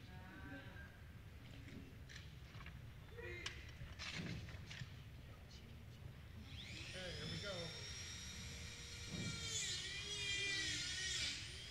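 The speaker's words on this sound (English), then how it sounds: "He's using a Dremel." A Dremel rotary tool whines at high pitch, cutting open a time capsule for several seconds, rising in intensity near the end, while people murmur and talk faintly nearby.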